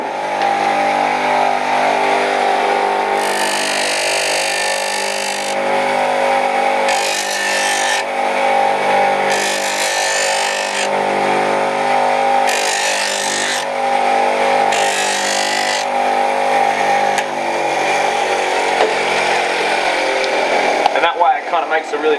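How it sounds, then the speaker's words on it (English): Cast pewter held against a grinder by hand to take off its casting seam line; repeated bursts of rasping grinding rise and fall over a steady motor hum, with talking throughout. "we just want to grind that off, and we're going to do that by hand"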